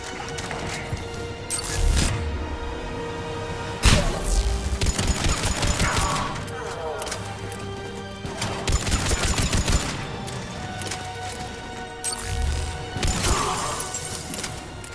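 Gunfire crackles through a firefight in the video game Mass Effect 3, with repeated bursts and sharp impacts spread across the whole stretch, loud and close, layered over a busy mechanical and ambient game backdrop.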